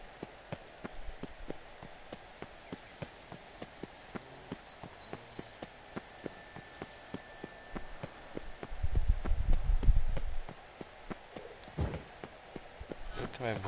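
Horse hooves clip-clop in a steady trotting rhythm in a PS4 video game, fairly faint and even, with a louder rumbling swell near the end and someone talking over parts of it.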